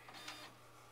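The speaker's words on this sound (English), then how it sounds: "The pages are being pulled through the feeder on the top, and then they will come out just below the feeder." A Brother document scanner drawing pages through its top feeder, a brief mechanical whir with a low steady motor hum, quiet and close.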